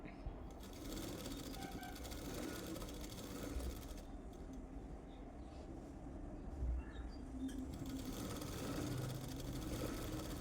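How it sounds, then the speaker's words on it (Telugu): Sewing machine stitching a blouse, folding a quarter-inch edge of cloth, running in a steady continuous whir with brief pauses and shifts in pace, close and fairly loud throughout. "ఒక సైడు 1/4 ఇంచు క్లాత్ ఫోల్డ్ చేసి స్టిచ్ చేయాలి."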